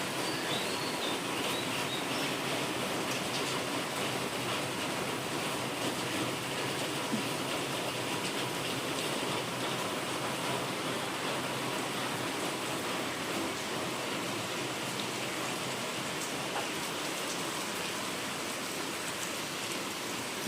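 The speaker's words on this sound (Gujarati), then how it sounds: "જો ધીમો ધીમો વરસાદ ચાલુ જ છે" Light, steady morning rain falls continuously in Navsari, a soft even hiss with no breaks and no voices.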